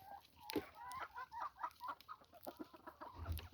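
Chickens eating leftover food cluck softly and repeatedly at close range, busy and uneven, with a few pecking taps and rustles.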